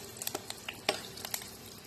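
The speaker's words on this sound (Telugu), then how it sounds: "ఈ తాలింపు ఇట్లా వేగుతూ ఉంటుంది కదా" Oil tempering with spices for a coconut and sesame seed fry sizzles softly in a pan, broken by a few light scraping stirs and clicks, faint and close with no talking.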